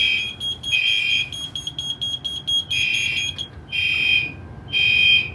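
An electronic fire alarm control panel sounds loudly during a Discovery system test, a piercing high beeping tone pulsing in rapid bursts, then longer repeated blasts with brief gaps.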